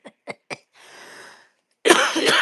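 A woman coughs during a morning chat show, three short sharp coughs in quick succession, then a breathy hiss and a louder burst of laughter-like coughing, close to the microphone.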